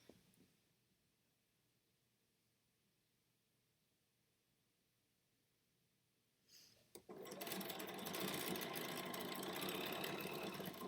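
A sewing machine chain piecing fabric starts up after several seconds of near silence and then runs steadily and loud, a continuous close mechanical whir to the end.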